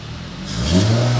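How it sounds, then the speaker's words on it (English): Supercharged Mercedes SLK320 fitted with a new intake and exhaust, its engine blipped in a short rev that rises from idle into a louder, steady roar with a broadband supercharger whine, close to the car. "Let's give it a little rev."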